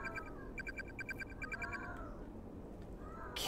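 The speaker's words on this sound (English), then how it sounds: "Cat!" Cat meows in the Corpse Party horror game, a few drawn-out yowls that rise and fall, heard close and clear over a quiet, low ambient background, ending in a sharp burst.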